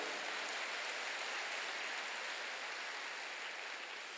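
A dense, steady wash of clapping from a large church congregation during a Sunday service, loud and continuous throughout without a break.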